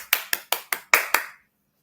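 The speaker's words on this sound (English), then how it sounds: "So a big round of applause to all the audiences and our winners." Six sharp, evenly spaced hand claps ring out with a short echo after each, then stop, at an award ceremony.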